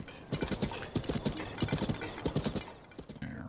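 Giant horse hooves clip-clopping in Zelda: Tears of the Kingdom, a steady run of heavy, close hoofbeats in an even rhythm over game ambience, with no talk.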